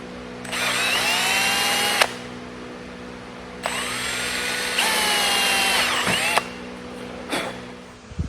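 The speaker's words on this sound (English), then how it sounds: "use my 1/4 inch drill bit, get these 4 installed." A power drill with a quarter-inch bit whines loudly in long bursts into a Toyota Tundra tailgate, spinning up and winding down several times with brief pauses between runs.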